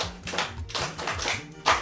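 An audience claps for a speaker, a short burst of irregular hand claps, close and crisp, with a louder clap near the end.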